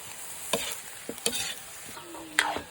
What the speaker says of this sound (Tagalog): Halo-haloin lang natin.